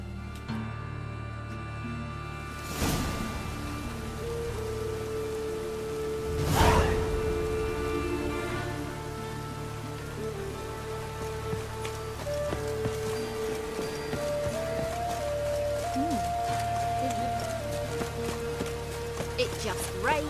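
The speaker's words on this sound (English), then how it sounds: "It just rains and rains." Steady rainfall in The Witcher 3: Wild Hunt, a continuous soft hiss of drops over a town's streets, with a couple of sharper thuds and a faint low hum running through it.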